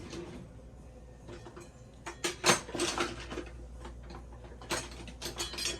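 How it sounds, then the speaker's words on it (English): A knife and cutlery are picked up from a kitchen drawer, with close metallic clinks, rattles and clattering bursts over a low hum. "Let me get a knife."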